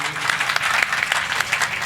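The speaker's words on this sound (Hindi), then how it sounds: "एक जोरदार ताली बजाइए।" An audience claps loudly at a live devotional song stage program. Individual hand claps stand out within a dense, lively burst of applause.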